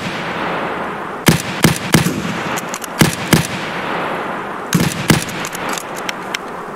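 Gunfire in the shooter Escape from Tarkov: sharp, loud single shots and short clusters crack out irregularly over a background murmur, some close together in quick pairs, with gaps of quieter ambience between.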